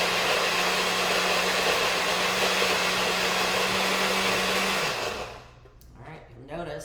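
Countertop blender running continuously and loud on a non-dairy blueberry lemon cheesecake filling, a steady whirring roar that winds down and stops, leaving faint handling sounds.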